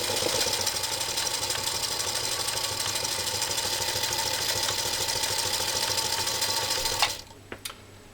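A Singer Featherweight 221 sewing machine stitches through genuine cowhide leather, its needle clattering in a steady fast rhythm for several seconds before stopping with a few clicks.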